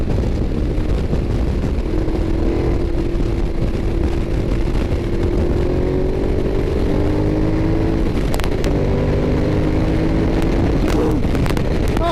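A Ducati Diavel motorcycle riding in fifth gear on backroads, its engine droning loud and steady throughout with a rising pitch as the throttle is twisted, heavy wind rush over it, and no talk.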